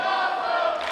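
A wrestling crowd roars and cheers after a main-event 2 out of 3 falls match, a dense sustained wall of voices that stays loud and steady throughout with no distinct speech.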